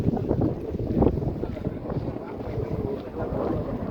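Strong wind sweeps across a hillside, buffeting the microphone with a steady, low rumbling roar that swells and eases in gusts throughout.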